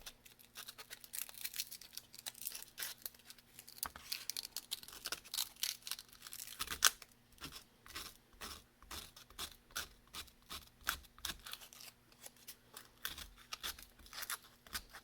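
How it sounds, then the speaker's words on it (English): Folded sandpaper rubbing along the edges of a wooden sign in quick, repeated scratchy strokes, faint and close, with a low steady hum beneath and no talk. "I'll fold my sandpaper up"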